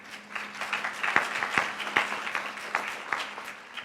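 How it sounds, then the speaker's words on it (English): An audience at a medical talk for primary care physicians gives a round of applause, a steady patter of many hands with a few sharper claps standing out, moderately close and without speech. "Let's give a round of applause."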